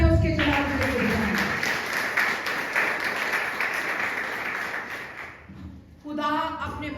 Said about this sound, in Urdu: آئی زوردار تالیاں اس کے جلال کے لیے دیں